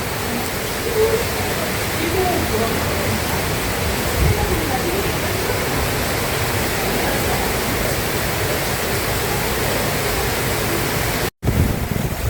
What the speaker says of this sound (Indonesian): hujan di Lawang Sewu